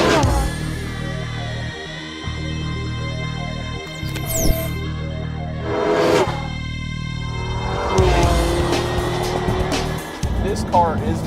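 A Porsche 918 Spyder supercar with a 9,000 rpm V8 accelerates and shifts, engine notes rising and falling in sweeping revs over several seconds, with people talking over it.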